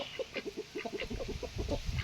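Several hens cluck and chatter in a rapid, busy stream close by, quiet overall with soft rustling beneath.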